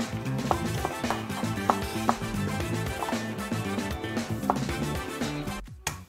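Knife chopping an onion on a board while sautéing base is prepared, a steady series of light taps over a background sizzle and kitchen clatter, fairly close.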